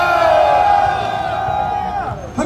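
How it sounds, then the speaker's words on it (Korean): Loud sustained roar of a crowd at an outdoor protest rally by former marines, voices shouting and cheering together and then fading near the end. "저는 여러분의 뜨거운 함성과 박수로"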